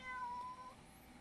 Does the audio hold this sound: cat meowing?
yes